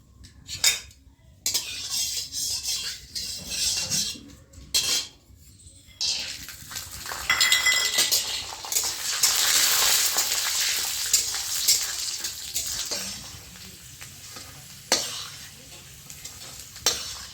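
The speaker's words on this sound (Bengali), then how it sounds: "বাদামগুলো আমি ভেজে নেব।" Peanuts frying in hot oil in a wok, sizzling steadily while a metal spatula scrapes and clinks against the pan in repeated stirring strokes, close and fairly loud, with short pauses between bursts.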